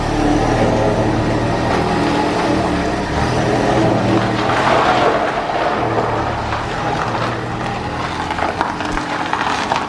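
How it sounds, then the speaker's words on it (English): A Ford Mustang EcoBoost driving to a garage, its engine a steady close, loud drone with mild rises in pitch throughout. "moving the EcoBoost to the garage real quick"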